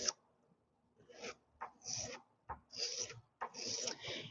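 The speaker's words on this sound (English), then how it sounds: "I might give it just a touch more filing" A hand file rasps against a small handmade metal lentil bead in a series of short, close strokes with brief pauses between them. The scraping is quiet and fairly rhythmic.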